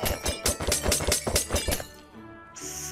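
Rapid run of glass experience bottles shattering in Minecraft, about nine sharp breaks in quick succession over two seconds, then a brighter chime-like game pickup sound, loud and close with no talk.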